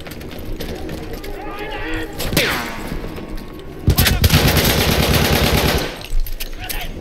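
Battlefield 1 combat: a sustained burst of rapid gunfire lasting about two seconds, preceded by scattered shots and game noise, with someone talking around it.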